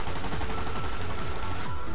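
Rapid gunfire bursts as a sound effect in an audio drama, with bullets aimed at a group of men, a dense loud rattle of repeated shots filling the whole brief moment.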